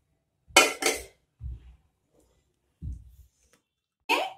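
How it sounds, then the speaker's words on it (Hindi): Vegetable Hakka noodles are tipped from a pan into a serving dish: two close clattering knocks of crockery and utensils, then a few softer dull bumps and a final clink, with quiet gaps and no talking. "अब एक सर्विंग डिश लेंगे और उसमें नूडल्स को"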